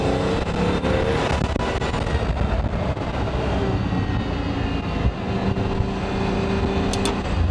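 A Pagani Roadster supercar's engine drones steadily from the passenger seat as a broad, continuous roar with wind and road noise, loud and constant throughout.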